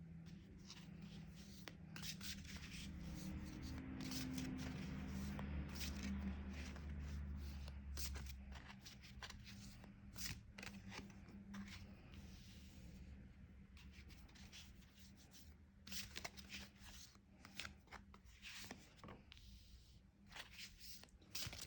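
Tarot cards shuffled and handled on a table, a continuous soft papery rubbing and riffling at close range, with scattered light taps and slides as cards are drawn and laid down.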